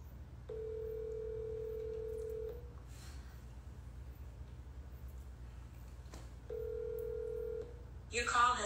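Phone call ringing out on a handset, with two faint, steady ringback tones about two seconds each, separated by a pause over a low background hum, before a voice briefly starts at the end.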